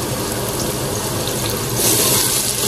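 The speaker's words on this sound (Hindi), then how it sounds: "मैंने पूरा पतीला पानी का भर दिया" Tap water pours into a cooking pot for biryani, a loud steady gushing rush that swells slightly as the pot fills, with no talking over it.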